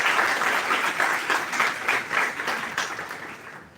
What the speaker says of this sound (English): Give a big round of applause to this talk